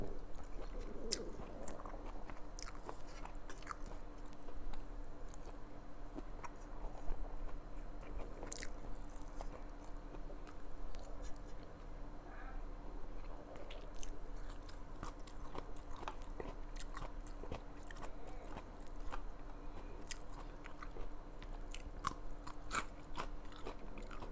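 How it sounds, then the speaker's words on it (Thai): Fried chicken meat being gnawed off the bone, heard as faint, close biting and crunchy chewing with scattered small clicks over a quiet steady background hum, no talking. "ถ้าเป็นเนื้อติดกระดูกจะแทะอร่อยมาก"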